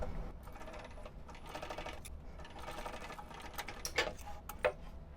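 A sewing machine stitches up the sides of a fabric wristlet, running in quick rattling bursts with brief pauses between, fairly quiet and close, ending with a couple of sharper clicks.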